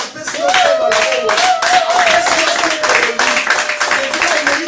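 Church congregation at a Sunday service clapping and cheering together, a dense run of rhythmic hand claps with raised voices and a sustained sung or shouted tone running through the crowd noise.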